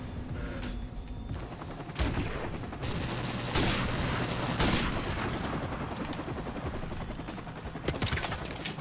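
Continuous video game combat with booming grenade explosions, the loudest bursts landing near 2, 3.6, 4.6 and 8 seconds over steady rattling gunfire, dense and loud throughout with no talk.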